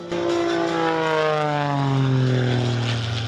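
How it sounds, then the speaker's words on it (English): Propeller airplane flying at the Toledo Air Show, a loud, close, sustained engine drone with a slowly falling pitch as it passes. "To see all the airplanes."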